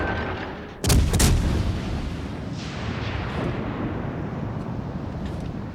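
A battleship fires a gun salvo in World of Warships Legends, giving one loud booming blast followed by a long rumbling decay of battle noise, with no voices.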